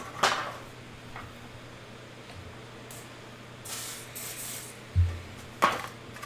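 Cooking oil spray hisses in a few short bursts as pans are greased in a home kitchen, with faint knocks and clatter between the sprays and no talking.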